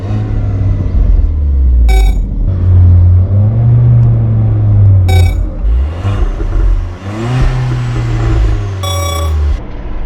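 A Volkswagen Polo GT TSI engine revs and accelerates in loud, rising surges, pausing between gear changes, with a deep rumble throughout and no talking.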